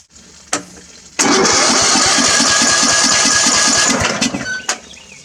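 An old lawn mower engine with its cowling off cranks on the starter, then catches and runs loud and close with a steady rapid chug for about three seconds before cutting out, with a couple of sharp clicks around it.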